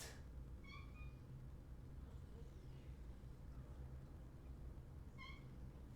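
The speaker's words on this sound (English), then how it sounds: "my cat is crying at the door again." A cat crying at the door, heard as two faint, distant meows a few seconds apart, a short plaintive call at the start and another near the end, over a steady low background hum.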